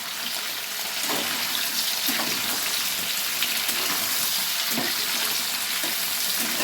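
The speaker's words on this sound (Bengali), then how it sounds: "টমেটোটা ভালো করে আলুর সাথে নেড়ে নিচ্ছি।" Tomato and potato frying in a pan as they are stirred together, giving a steady loud sizzle that runs throughout with faint scraping strokes of the spoon scattered through it and no talking.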